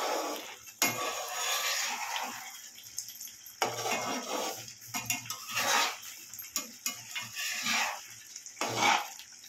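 Potato and green peas gravy stirred in a pan, a spoon scraping and clinking against the metal in uneven strokes, close and moderately loud with no talking.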